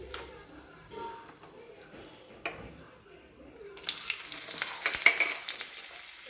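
A spoonful of oil sizzling in a pan as a quarter spoon of asafoetida powder goes in, starting with faint ticks and stirring, then a steady, close frying hiss through the second half, with no talk.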